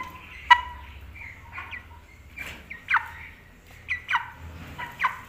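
A roughly 3 kg broiler rooster, 36 days old, gives a run of short, close chirping calls at irregular intervals over a low background hum.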